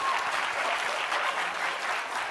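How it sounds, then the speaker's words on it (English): An audience at a talk breaks into applause, a dense, steady wash of many hands clapping at once, loud and sustained throughout with no voices standing out. "So can we just give them all a round of applause?"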